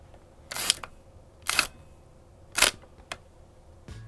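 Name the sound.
Hasselblad 500C/M camera shutter firing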